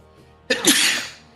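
A sudden sharp sneeze bursts out close by, quickly followed by a second, slightly softer sneeze in a quiet room.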